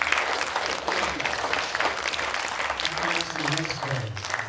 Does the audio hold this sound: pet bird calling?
no